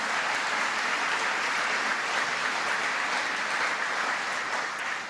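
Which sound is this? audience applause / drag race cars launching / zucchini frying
audience applause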